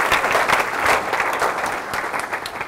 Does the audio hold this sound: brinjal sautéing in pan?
no